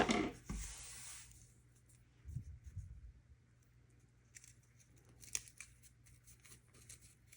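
Scissors snip through folded paper while cutting a holiday snowflake, a short rasping cut at the start followed by faint clicks and small snips, quiet and close with no talk.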